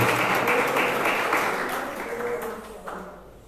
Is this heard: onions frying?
no